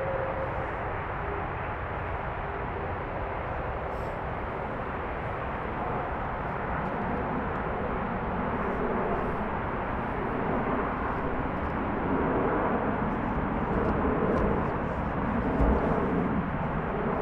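An airliner landing on runway 25R at a freezing Frankfurt Airport, heard as a broad, steady engine and wind roar that holds loud and even throughout, swelling slightly toward the end.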